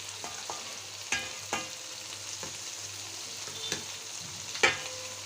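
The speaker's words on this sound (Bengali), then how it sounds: "এখন উল্টিয়ে পাল্টিয়ে ভেজে নিচ্ছি" Turmeric-and-salt-coated shrimp fry with onion and green chili in a pan, a soft steady sizzle broken by sharp clinks and scrapes as the pieces are stirred and turned.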